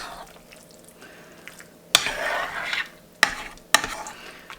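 A spoon stirs a chicken gratin mixture in a dish, soft wet scraping and mixing punctuated by three sharp clinks of the spoon against the container, close and with no speech.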